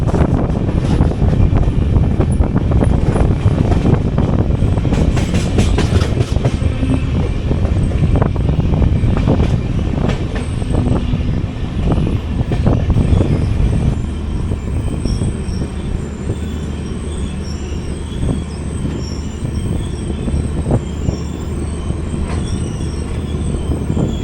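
Vistadome train of the 16575 Gomateshwara Express running from Yesvantpur to Mangaluru Jn, with loud continuous rail rumble, wheel squeal and rhythmic clatter of the coaches over the tracks, steady throughout.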